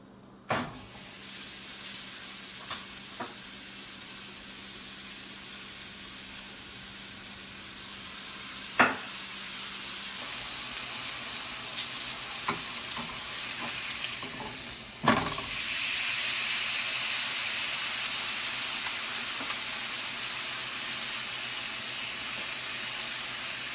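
A steak sears in a hot pan with butter, giving a steady sizzle and hiss that swells loudly near the end, with a few sharp clanks of utensils along the way and no talking.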